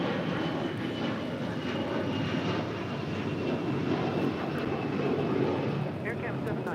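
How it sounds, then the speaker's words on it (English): An Air Canada Airbus A321 jet takes off from the south side of LAX, giving a continuous, fairly distant airliner engine roar that holds steady throughout. "takeoff here on the Southside, Air Canada flight 790 heading to Toronto in an A321"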